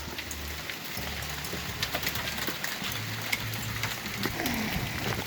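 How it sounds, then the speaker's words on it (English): Hail drumming steadily outdoors as a dense, even patter of ice striking surfaces, with a faint low hum under it and no talk. "let it hail, look, let it hail"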